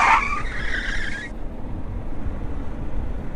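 A car brakes hard with a loud, sharp tire skid lasting just over a second, then cuts off, leaving a low rumbling background.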